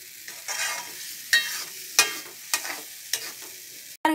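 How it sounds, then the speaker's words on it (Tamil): A spatula scrapes repeatedly through masala, mustard seeds and onion in a pan for yam masiyal, with a hiss under several distinct stirring strokes and a knock at the end. "நல்லா மிக்ஸ் பண்ணிடுங்க எல்லா கடுகு அந்த வெங்காயம் அதெல்லாம் நல்லா ஒன்று சேர்ற"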